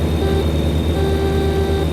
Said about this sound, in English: I have the world's worst horn.